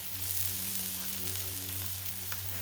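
Burger patties frying on a Blackstone griddle, a soft continuous sizzle with low steady hum underneath, quiet and unbroken with no talking.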